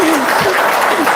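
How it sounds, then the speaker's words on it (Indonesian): Audience applause during an Indonesian religious talk, a short loud burst of crowd clapping, dense and close, with a faint voice tone sliding under it. "Tepuk tangan dong, luar biasa."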